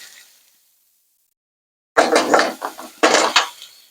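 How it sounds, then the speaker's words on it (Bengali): Spices with salt, turmeric and chili powder stirred in a pan with ginger-garlic paste, a metal utensil scraping and clinking against the pan in two short bursts after a quiet pause. "সব মশলাকে আমি একটু ভালো করে নেড়ে চেড়ে নেব"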